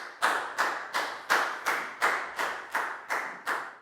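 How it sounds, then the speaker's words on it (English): A classroom of Year 4 pupils claps for a classmate, about nine sharp, evenly spaced claps that sound like one or two people's hands, close and clear with no talk. "Big round of applause for Pakbung"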